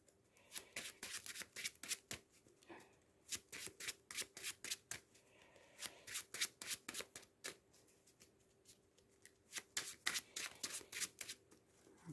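Marvel Champions game cards being riffle-shuffled again and again, each shuffle a quick crisp burst of flutters with short pauses between, close and clear.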